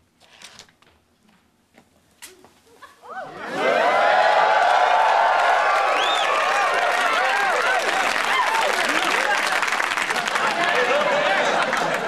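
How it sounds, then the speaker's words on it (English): A crowd erupts into wild cheering and applause after a quiet start, a sudden loud surge of clapping and shouting that holds steady to the end. "Well, the crowd is going wild."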